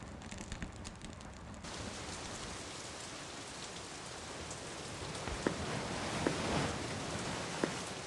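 Steady rain in the video game The Dark Eye: Chains of Satinav hisses evenly throughout, with a few sharper drips and splashes standing out near the end. No speech.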